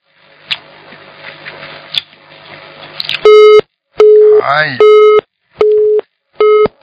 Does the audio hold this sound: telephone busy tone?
yes